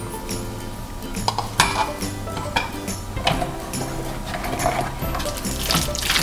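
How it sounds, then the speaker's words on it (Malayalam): Chicken pieces are stirred with salt in a metal pot, giving steady scraping and clinking of a utensil against the pot with a few sharper knocks, close and moderately loud throughout. "ചിക്കന് ആവശ്യമായിട്ടുള്ള ഉപ്പ് ചേർത്ത് മിക്സ് ചെയ്യാം നമുക്ക്"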